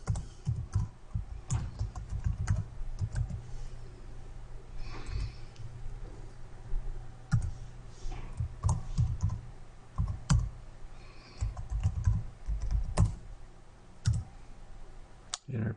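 An SSID being entered on a computer keyboard, with quick irregular bursts of close key clicks and pauses between runs of typing, no voices.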